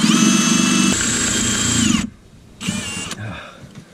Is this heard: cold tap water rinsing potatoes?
no